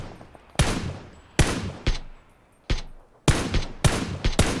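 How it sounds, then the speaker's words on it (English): Loud gunfire in PUBG cracks out in a series of sharp shots, some single and some in quick pairs, each trailing a short echo, spread irregularly over a few seconds. "Oh, that's a loud gun."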